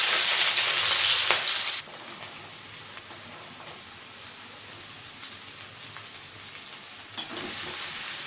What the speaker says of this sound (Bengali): তেল গরম হচ্ছে